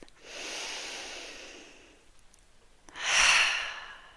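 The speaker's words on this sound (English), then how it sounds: "I invite you to join me for a nice spacious breath" A slow, deep inhale and then a fuller exhale, close and soft, with a short pause between them and no talking.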